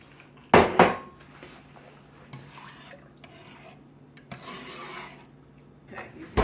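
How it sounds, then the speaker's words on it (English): A metal soup pot is handled and carried to a kitchen sink, giving a couple of loud scraping clanks near the start, then softer rubbing and knocks with faint background noise. "you bring your pot to the sink"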